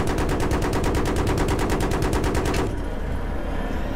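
An automatic weapon fires in the video game Battlefield 3, a loud, rapid burst of evenly spaced shots lasting several seconds, then cutting off into a rumbling background.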